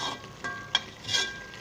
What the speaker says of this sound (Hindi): आइए अभी इसे भूनते हैं।